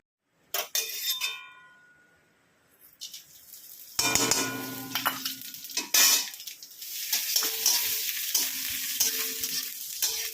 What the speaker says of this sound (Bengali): ভাজা মশলাটাকে একটু সামান্য তেলে ভেজে নিলাম